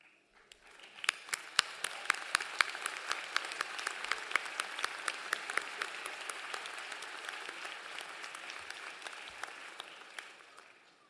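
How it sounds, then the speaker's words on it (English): Sustained applause from a graduation ceremony audience at a university commencement, dense and steady clapping that fills the hall for about ten seconds before thinning out at the end. "Please rise for a round of applause."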